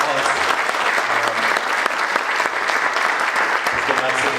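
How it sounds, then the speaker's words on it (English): Audience applause at a community recovery update meeting, a steady round of many hands clapping that holds strong and continuous for several seconds, with scattered sharper claps standing out. "give her a huge round of applause"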